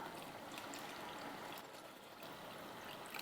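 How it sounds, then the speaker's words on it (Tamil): Tamarind water poured into a pot of sambar on the stove, a steady, continuous trickling pour of liquid that holds at an even level throughout, fairly quiet and with no voices. "புளி தண்ணியை சேர்த்துட்டு நல்லா மிக்ஸ் பண்ணிடலாம்"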